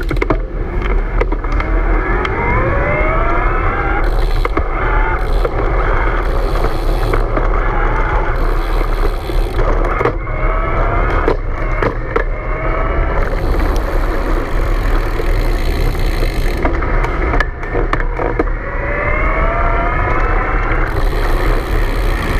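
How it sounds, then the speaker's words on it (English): The Bosch motor on a Haibike XDURO Urban S RX e-bike whines at high RPM, with repeated rising whirring sweeps as the rider pedals and stops, over a steady background rush. "listen to the noise too at the higher RPM"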